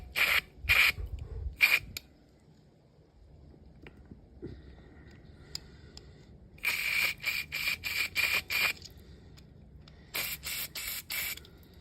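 Aerosol cleaner hisses in several short bursts into a generator carburetor, with quiet pauses and faint handling noises between them, close to the listener.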